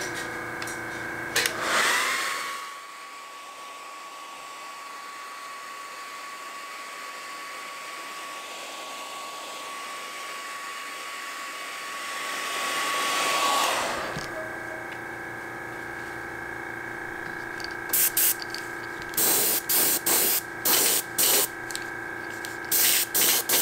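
A heat gun blows steadily on fresh paint on a crankbait lure, a continuous whirring hiss with a whine that runs about ten seconds, then stops, followed by a few brief clicks.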